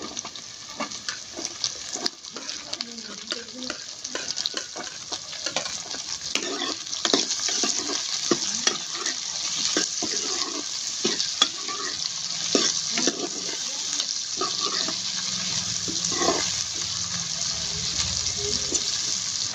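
Onions frying in a pan for potato kadhi, a loud, steady sizzle running throughout with frequent stirring scrapes and clatters of a spoon against the pan, close up, no one speaking.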